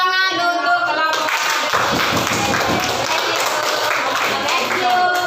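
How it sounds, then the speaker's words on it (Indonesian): A classroom group of students receives a round of applause, with dense, steady clapping from many hands that starts after a brief voice and fills the rest of the moment. "beri tepuk tangan untuk kelompok"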